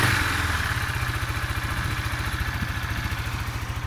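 A single-cylinder engine of a Maxsym 600i scooter idles steadily nearby, its low, even thumping pulses loud and continuous with no voices.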